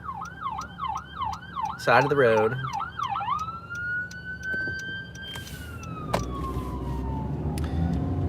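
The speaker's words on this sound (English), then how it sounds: "there's an ambulance passing" An ambulance siren wails close by in rapid repeated sweeps, then shifts to a steady, falling tone as it passes a driver pulling to the side of the road, with brief talk and road noise underneath.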